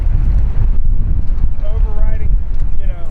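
Gusty wind buffets the microphone on a bright, windy day on the Potomac River, a heavy low rumble throughout, with faint speech-like tones rising partway through.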